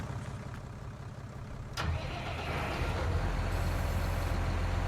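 A tractor engine in Farming Simulator 19, towing another tractor out of a ditch, kicks in with a sudden burst. It then settles into a steady, fairly loud mid-pitched running drone that continues to the end, with no talk.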